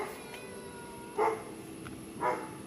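A boarding cat at a pet grooming studio in Thrissur gives two short, fairly faint meows about a second apart over a quiet room hum.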